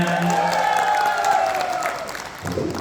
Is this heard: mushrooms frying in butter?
no